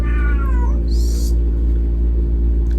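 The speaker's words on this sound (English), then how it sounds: "That's my cat." A pet cat named Hershey gives a clear, close meow that slides downward, then a brief higher squeak follows over a steady low hum, with no talking.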